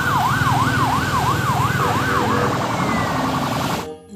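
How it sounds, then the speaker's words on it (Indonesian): A toy police car plays an electronic wailing siren, a fast rising-and-falling tone repeating steadily and loud and close, before it cuts off abruptly near the end. "Mobil polisi."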